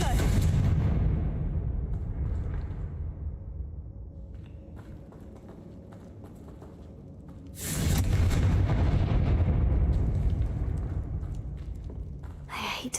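Two big booming blasts from the Confringo fire spell in the Hogwarts Legacy video game, about eight seconds apart, each leaving a long rumbling tail that slowly dies away.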